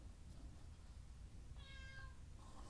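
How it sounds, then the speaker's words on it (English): A cat gives a single faint, drawn-out meow partway through, set against a steady low background hum at a quiet rifle range, with no one talking. "Cat meowing."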